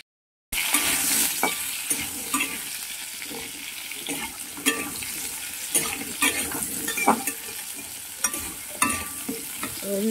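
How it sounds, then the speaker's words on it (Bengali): Potato pieces fry in hot oil for a Bengali fish and cauliflower dish, giving a steady, close sizzle with repeated scrapes and clinks of a spatula stirring in the pan throughout. "এবার যে তেলটা আছে সেই তেলে আমি আলু ভেজে নেব।"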